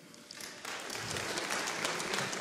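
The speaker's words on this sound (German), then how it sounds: "Mal klatschen bitte." A comedy show audience starts clapping, first a few scattered claps, then a fuller, sustained round of applause at moderate volume.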